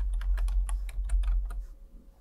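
A computer keyboard clatters as a folder name is typed, about a dozen quick, crisp keystrokes in an uneven burst that slows and stops near the end, close and clear with no talk.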